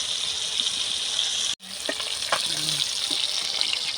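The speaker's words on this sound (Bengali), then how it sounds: "মাছটা প্রায় ভাজা ভাজা হয়ে এসেছে" Rohu fish sizzling and frying in hot oil on a new stove, a steady bright hiss broken by a brief pause, then continuing with small clinks and stirring sounds close by.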